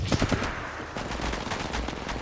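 Bursts of automatic gunfire from a battle royale match in Apex Legends Mobile, rapid rattling volleys in quick succession with a short pause before a second stream of shots.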